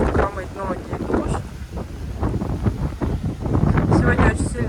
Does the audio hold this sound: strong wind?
yes